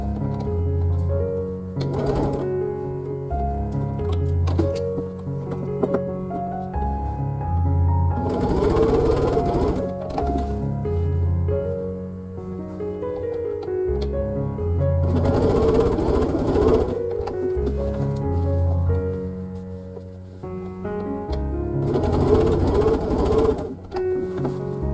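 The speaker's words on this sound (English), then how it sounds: "I'll just sew these 4 on." A sewing machine stitches quilt blocks in repeated steady runs, its rapid mechanical whirr rising in bursts every several seconds between quieter pauses, close and clear with little talk.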